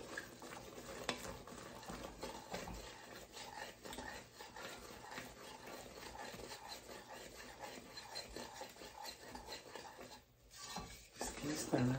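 Butter being stirred as it melts in a pan for pecan candy, with a steady, quiet scraping and rubbing of the utensil against the pan that continues for the whole stretch, dipping briefly near the end.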